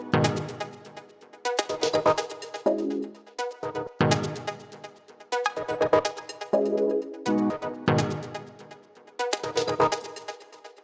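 Electronic music synth section plays alone: punchy, rhythmic stabs with short bright chord hits and brief low melodic phrases answering each other in a repeating call-and-response groove, clear and up front.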